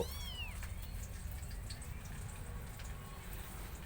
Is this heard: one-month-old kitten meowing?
yes